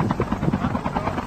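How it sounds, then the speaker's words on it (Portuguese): A video game helicopter flies close by with a steady, loud rotor chop and engine buzz throughout the short stretch. "Tô no helicóptero aqui"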